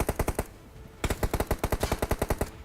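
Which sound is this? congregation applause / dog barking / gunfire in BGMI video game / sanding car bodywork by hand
gunfire in BGMI video game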